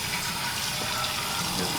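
Tap water runs and splashes steadily while moong beans are rinsed, a continuous broad hiss with no talk over it.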